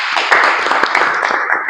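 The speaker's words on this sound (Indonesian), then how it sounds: "Tepuk tangan buat kita semua." A classroom group claps together in a short, dense round of applause. The hand claps are quick, close and fairly loud.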